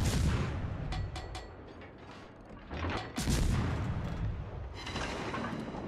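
Warship guns firing in a naval battle video game, a series of heavy booming blasts with rumbling tails, a loud cluster near the middle over a continuous low background roar.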